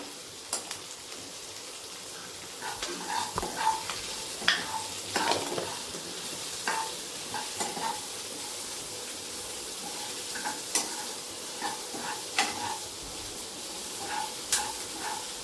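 Chopped tomatoes sauté in a pan with a light salting, giving a steady close sizzle broken by repeated scraping and clinking stirs of a spoon against the metal, with no talking.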